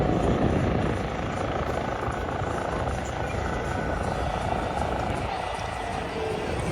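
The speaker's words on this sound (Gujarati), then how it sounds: "પાછળથી હેલિકોપ્ટર આવી ગયું છે" A helicopter passes over Lake Geneva, its loud, steady rotor and engine roar filling the scene continuously for several seconds.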